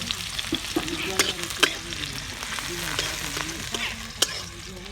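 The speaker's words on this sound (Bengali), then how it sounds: "গরম করার মধ্যে সাদা তেল দিয়ে দেবো গরম করার মধ্যে পেঁয়াজ কুচি আর কাঁচা লঙ্কা কুচি দিয়ে দেব" Chopped onion and green chili sizzle steadily in hot white oil for chowmein, with a continuous loud frying hiss broken by scraping stirs of a spatula against the pan.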